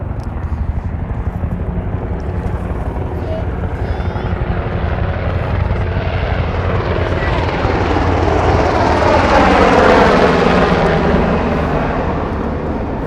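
Loud, steady rotor and engine roar of helicopters passing overhead at the Cherry Blossom Festival memorial in Washington DC, swelling toward the end as one comes nearer, with no talking.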